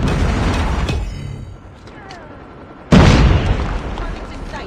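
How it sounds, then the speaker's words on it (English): Predator missile strike in Call of Duty Mobile: sustained roaring battle noise fades to quieter ambience, then a sudden loud, close explosion bursts and rumbles on to the end. "Predator missile inbound."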